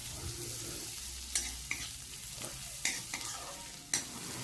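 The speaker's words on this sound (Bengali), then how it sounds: "পেঁয়াজটা হালকা করে একটু লালচে কালার চলে আসা পর্যন্ত ভেজে নিতে হবে" Finely chopped medium-sized onion fries in a pan of oil until lightly reddish, giving a steady low sizzle broken by a few sharp scraping stirs of the spatula.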